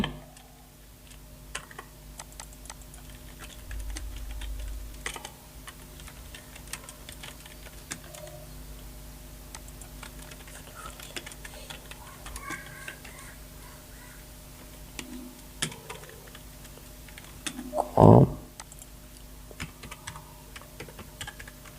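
Soft typing on a computer keyboard, scattered faint key taps over a quiet background while entering text into a website contact form, with one louder burst of clatter near the end.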